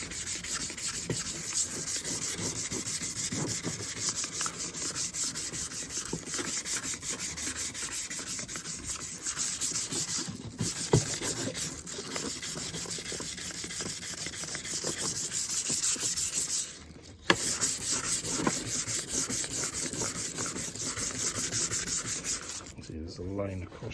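A car headlight lens on a Range Rover L322 is rubbed during refurbishment, a steady, close abrasive scrubbing that runs almost continuously with one short break near the end.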